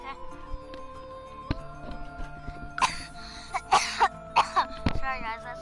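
A person coughs several times in short bursts partway through, over quiet game music with steady tones from a Sims 4 session, and some voice sounds mix in around the coughs.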